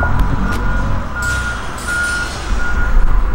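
Truck reversing at a landscaping job site, its backup alarm beeping steadily through the clip over a rumbling diesel engine, close and loud.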